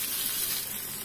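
Cumin seeds and onions sizzle in hot oil in a pan, a steady, close, dense frying hiss with no pauses.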